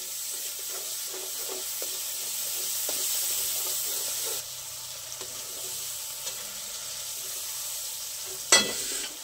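Pasta frying in a pan with red chili sauce and schezwan chutney, a loud steady sizzle with light stirring scrapes, then a sharp clatter near the end.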